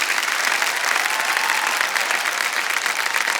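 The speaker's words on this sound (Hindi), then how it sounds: "ताली बजती रही।" Studio audience at a televised quiz show applauding steadily, a dense, even wash of clapping hands that holds at full strength throughout, with no voices standing out.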